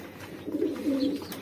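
A tame female pigeon coos softly at close range in a home loft, a short low burbling call rising and falling over a quiet background.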